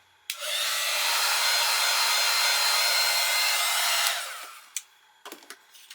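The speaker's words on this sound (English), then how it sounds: "let it heat up for a few moments, and then apply it to my paper and watch that embossing powder melt" A heat embossing tool blows hot air steadily for about four seconds while melting embossing powder on paper for a handmade card, then cuts off, followed by a few faint clicks and rustles.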